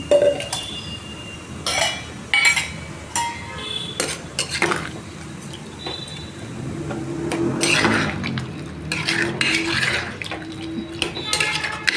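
Rice being stirred in a cooking pot with a metal spoon, giving repeated close clinks and scrapes against the pot in irregular bursts over a soft background.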